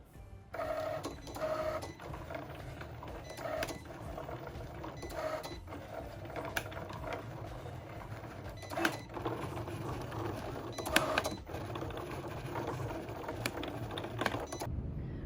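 A Cricut cutting machine slices an iron-on vinyl design, giving a steady mechanical whir with repeated short carriage buzzes and clicks as the blade moves back and forth, close and continuous for the whole stretch.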